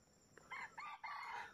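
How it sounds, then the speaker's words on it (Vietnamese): A jungle fowl in Vietnamese forest clucks and crows in three loud, close, harmonic bursts over about a second, with faint forest background and no talking. "Con gà rừng nó cọc tác khán cả cổ"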